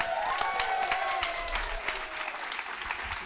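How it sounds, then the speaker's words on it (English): An audience at a talk gives a round of applause: dense, steady clapping from a crowd at moderate distance, lasting a few seconds with faint voices mixed in. "Give her a round of applause"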